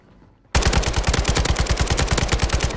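Rapid automatic gunfire rattles loud and steady in a multiplayer battle-royale shooter video game, a continuous fast burst of shots that starts abruptly after a brief quiet moment.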